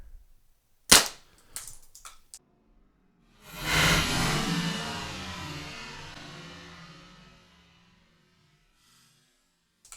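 A paintball marker firing at a distant target: one sharp, loud pop, followed by a few smaller clicks and then a long, broad whooshing rush that slowly fades away, with no voices.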